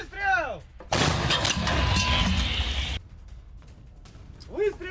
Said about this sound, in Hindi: रूसी सेना ने होवित्सर से धावा बोला।